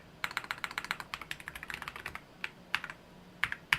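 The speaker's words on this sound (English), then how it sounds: "This is the EpoMaker F99X Aula or whatever. And I have custom keycaps" Typing on an EpoMaker F99X Aula mechanical keyboard fitted with custom keycaps, a close run of crisp key clacks in quick bursts with short pauses.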